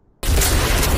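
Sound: anime sound bomb exploding, hydrogen-oxygen filled balloon

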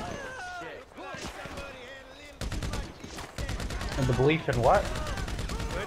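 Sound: gunfire in the video game Grand Theft Auto V

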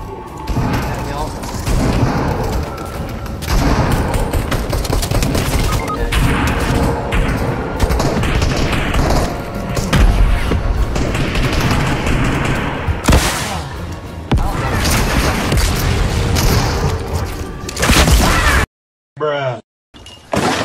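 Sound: rocket launcher explosions in the video game Fortnite

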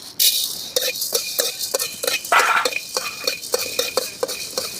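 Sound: black peppercorns dry-roasting and being stirred in a pan

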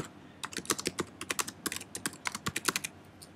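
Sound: typing text on a computer keyboard

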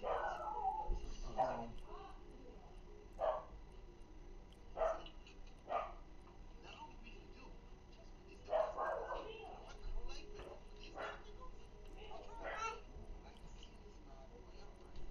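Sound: dog barking and whimpering

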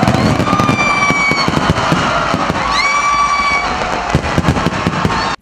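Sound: New Year's Eve fireworks show

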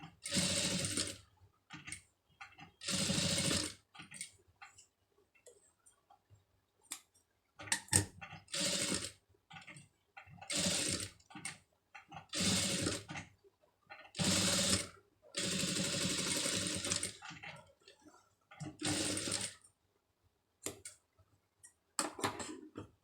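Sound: sewing machine stitching a sleeve

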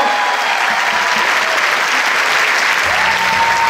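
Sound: cinema audience applause at film premiere

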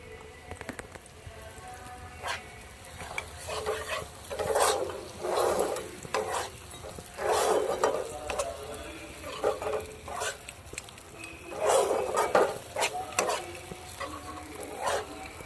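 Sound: spice paste frying and being stirred in a pan

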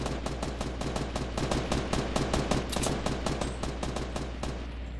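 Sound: gunfire in the video game Fortnite

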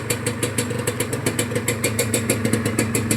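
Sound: motorcycle engine revving

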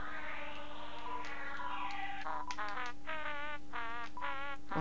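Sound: spooky music from a video game

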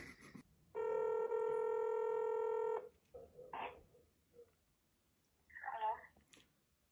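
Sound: Samsung phone dialing tones

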